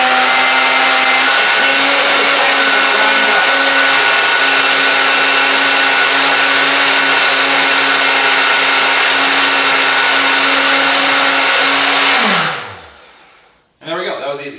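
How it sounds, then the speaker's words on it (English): Countertop blender blending spinach into a green smoothie, a loud steady high-speed whir running continuously for about twelve seconds before winding down and stopping, followed by a brief clatter. "I'm using my blender from the back of the counter here"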